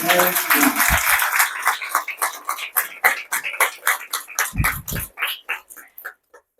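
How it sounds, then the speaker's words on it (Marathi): An audience at a Marathi spiritual discourse claps loudly in gratitude, a dense burst of applause that thins into rhythmic, unison hand claps before fading out. "तो आनंद मिळाला म्हणून कृतज्ञसाठी म्हणून जोरात टाळ्या वाजवा"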